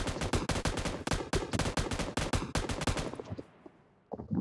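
Rapid machine gun fire in a shooting video game rattles out in fast, loud, evenly spaced bursts for about three seconds, then cuts off and leaves a brief pause before a few more shots.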